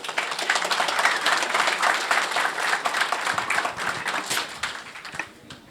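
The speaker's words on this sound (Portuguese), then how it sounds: "Seja muito bem-vindo ao palco e uma salva de palmas para Hamilton." An audience at a security conference applauds a speaker coming on stage, dense steady clapping from a roomful of people that thins and tapers off toward the end.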